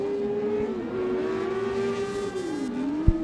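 Rallycross cars racing at Mondello Park, a loud engine drone with pitch dips and rises through gear changes and a sharp thump near the end.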